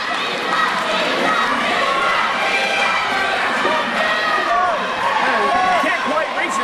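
A wrestling crowd at an independent match roars continuously, with shouts, whistles and scattered yells layered over one another, loud and close throughout while a commentator talks over the noise.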